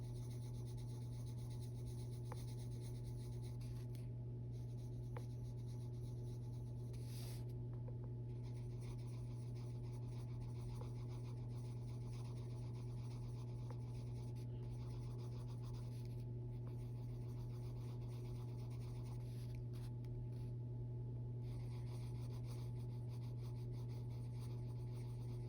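Soft, continuous scratching and rubbing of a colored pencil blending on paper, quiet and close, with a steady low hum underneath and no talking.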